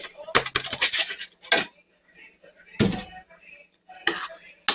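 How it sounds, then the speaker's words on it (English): McDonald's-style secret sauce ingredients, including black pepper and onion powder, get stirred in a bowl, giving clinking, scraping spoon-on-bowl bursts in a few quick rounds, close by. "Mix it up real good."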